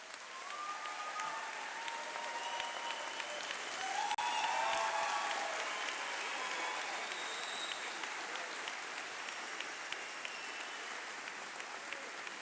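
An audience at a 2023 high school commencement ceremony claps continuously. The applause is a dense, steady patter that swells briefly midway and then carries on at an even level.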